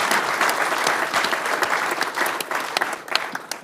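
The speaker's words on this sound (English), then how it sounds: "So collectively, I'm hoping that everyone can give us a round of applause." Audience applause fills a city council meeting chamber, a dense steady patter of many hands clapping close by that thins slightly toward the end, with no voices over it.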